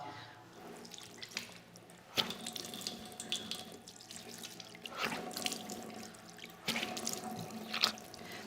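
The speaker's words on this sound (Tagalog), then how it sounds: "hugasan mo naman ng iyong muka o ikaw ay maghihilamos ng tubig ng 3 beses" A tap runs into a sink while someone performs the washing of ablution, splashing water with bursts of hand and face rinsing at intervals, close and moderately quiet.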